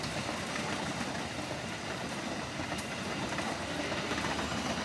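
A train passes through Gedebage station in a continuous, fairly loud rumble and rush of railcars, with faint wheel clatter and no talking.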